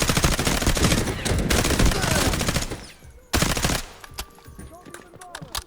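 Rapid gunfire from a boss enemy's shotgun and other weapons in the Delta Force shooter game, dense loud bursts that stop abruptly, then one more burst and scattered lighter shots.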